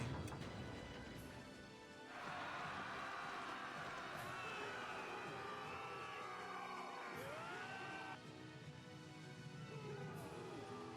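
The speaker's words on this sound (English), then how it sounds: "I hear people cheering." A distant crowd cheers and roars continuously in the video game Tales of Graces F Remastered, with swelling shouts layered over ambient game sounds; a brief quieter stretch at the start.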